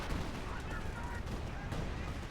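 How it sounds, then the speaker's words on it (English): Panther artillery barrage in the strategy video game Company of Heroes 2, a dense, continuous rumble of overlapping blasts and gunfire, loud and unbroken throughout. "Panther barrage finally off here."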